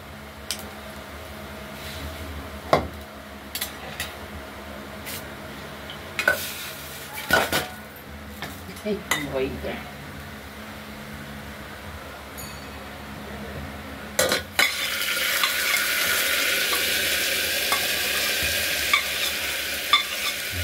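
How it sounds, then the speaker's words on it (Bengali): Washed moong dal frying in hot oil with dried red chilli, bay leaf and five-spice in a pan: a low steady sizzle with scattered sharp clinks and scrapes of a spatula, swelling into a louder, hissing fry near the end. "ধুয়ে নেওয়া মুগ ডালগুলো মশলাগুলো ভেজে নিয়েছিলাম"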